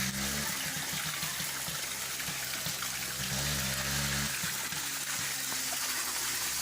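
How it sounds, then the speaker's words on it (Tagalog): Water from a spring gushes strongly into a swimming pool with a constant, dense rushing hiss. A low engine-like hum runs underneath and there is no talk. "saan nanggagaling ang tubig nito, ha? Sa bukal. Yan, oh, lakas."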